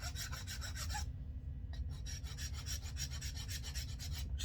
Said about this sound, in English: Just gonna sand this down.